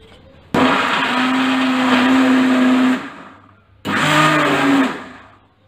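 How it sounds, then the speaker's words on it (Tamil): A blender grinds carrots in two bursts, a loud steady whirring motor running about two and a half seconds, stopping, then starting again for about a second more, with no voices. "நம்ம கேரட்டை நல்லா கிரைண்ட் பண்ணி எடுத்துக்கணும்."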